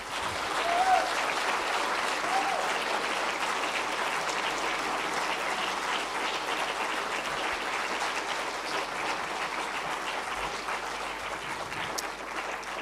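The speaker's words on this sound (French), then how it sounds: "qu'on applaudisse Hubert Reeves et qu'on fasse du bruit pour lui" An audience at a science-fiction night event breaks into sustained applause, a dense, even patter of many hands clapping that continues at steady strength throughout.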